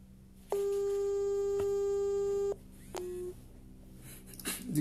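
Telephone ringback tone on an outgoing call to a governor: a steady electronic tone held for about two seconds, then a short second burst after a pause, clear and close over low background hum.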